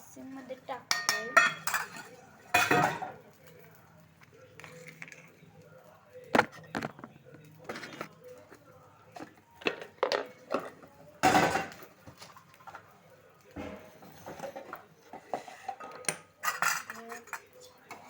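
Dishes and cutlery dropped into a kitchen sink basin, a close, loud series of irregular clinks, clatters and metallic bangs with short pauses between, while a person talks now and then.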